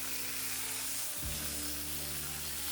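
Chicken thighs sizzle on a hot flat top griddle with a steady, soft hiss that swells briefly around the flip, heard under a low background hum.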